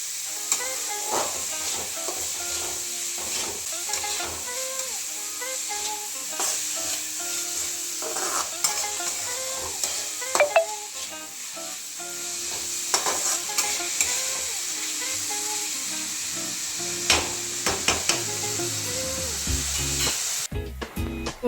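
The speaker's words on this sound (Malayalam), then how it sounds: "ഇഞ്ചിയും വഴണ്ട് കഴിഞ്ഞപ്പോൾ സവാള വഴറ്റും" Sliced onions sauté in a pan with ginger and a little salt for a prawn roast. A steady sizzle and hiss runs throughout, with scraping stirs and clinks of the spoon; no one speaks.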